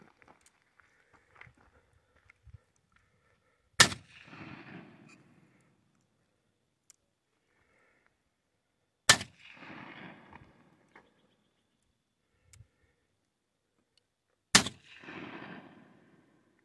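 Three loud, sharp single shots from Colt Wells Fargo .31 caliber black-powder pocket revolvers fire outdoors about five seconds apart, each followed by a rumbling echo tail, with faint shuffling and handling noises in between.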